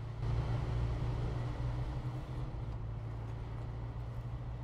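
Pickup truck engine in the off-road driving game SnowRunner, running in rear-wheel drive as it moves off: a steady, loud low rumble with a constant hum, continuous and without talk.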